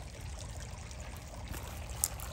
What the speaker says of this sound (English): Isn't that water fountain delightful?